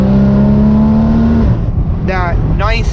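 A custom Porsche 981 with a titanium exhaust and wider K&N intakes sings a loud, high, steady engine tone that drops off partway through, followed by brief rising whines.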